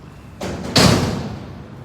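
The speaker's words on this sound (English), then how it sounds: "he just made a slamming noise right there" A single loud slam or thud, like a door or heavy object banging shut nearby, preceded by a softer bump and followed by a lingering rumble in a quiet room.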